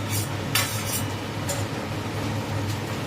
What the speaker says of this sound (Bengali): মা এই যে পেঁয়াজটা ঢেলে দিল